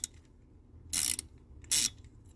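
A 1/4 inch socket wrench ratchets alternator screws into a Delco-Remy 10-SI alternator for a 1972 Corvette, two short, sharp, loud bursts of ratcheting clicks about a second apart.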